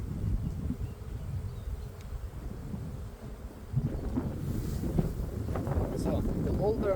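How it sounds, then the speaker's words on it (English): Wind gusting outdoors around an open beehive, heard as a constant low rumble of microphone buffeting that grows stronger partway through, with a faint background hum. "it's very windy as well"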